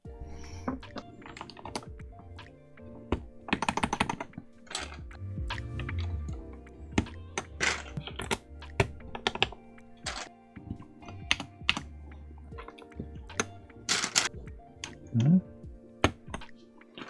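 Clacky keystrokes on a modded Wooting 60HE keyboard, irregular bursts of typing with a few heavier space bar thocks, close-up and fairly quiet, with faint background noise.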